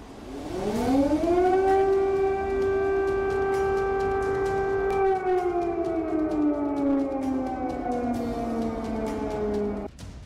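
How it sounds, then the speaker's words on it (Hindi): A loud air raid siren in Kyiv warns of missile attack, wailing steadily, rising at first then holding a long droning tone before slowly sliding down in pitch. "कीव में लगातार मिसाइल अटैक के सायरन बज रहे हैं।"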